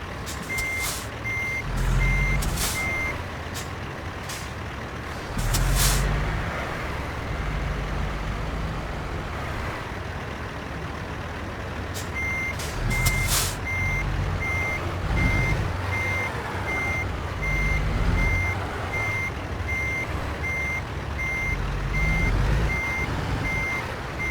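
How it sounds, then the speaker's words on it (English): A truck backing a trailer in American Truck Simulator sends out loud, evenly spaced reversing beeps over a steady diesel engine drone. The beeping comes in bursts, stops, then starts again. "We moved it from there, up through there, and backed it into here."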